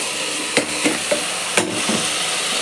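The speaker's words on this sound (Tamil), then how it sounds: "இதையும் நல்லா வதக்கிறணும்." Washed rice sautéed in a hot pan for vegetable biryani: a steady, loud sizzle with a few sharp scrapes and clacks from the stirring spoon, close up and without talk.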